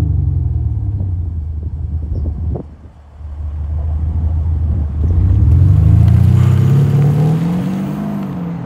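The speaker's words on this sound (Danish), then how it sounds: "Lytter man så til den, så kan man godt høre, at det her det er en bil, der har nogle kræfter." The Audi A6 3.0 V6 Competition engine rumbles nearby, dips briefly, then revs up with a rising, swelling tone that holds and slowly settles.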